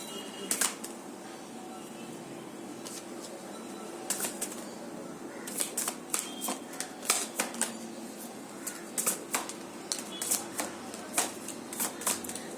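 Deck of cards being handled and shuffled, with soft riffles and quick papery flicks arriving in irregular bursts, close and fairly quiet.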